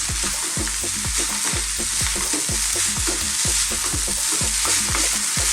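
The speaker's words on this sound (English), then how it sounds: "Stirring it continuously, mixing all those flavours in" Chicken fried rice cooked West Indian Caribbean style over really high heat, sizzling loudly in the pan with a steady rhythm of repeated scraping stirs throughout.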